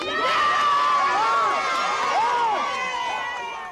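A large crowd cheers, shouts and whoops at a rally in downtown Atlanta, a loud continuous roar of many voices with rising and falling calls throughout.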